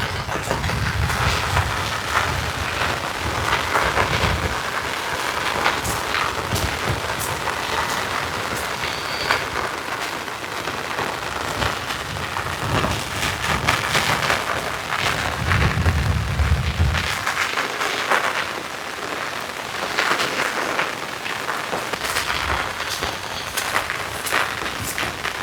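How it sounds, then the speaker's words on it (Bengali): Heavy rain falls steadily beside a village pond, a dense continuous patter with occasional louder low rumbles, and no one speaking. "বৃষ্টি আর বৃষ্টি।"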